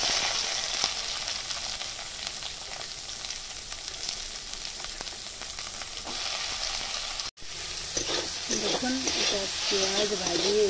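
Mustard seeds and onion frying in oil in a kadhai, a steady close sizzle throughout with a brief break, then bubbling crackle and stirring toward the end.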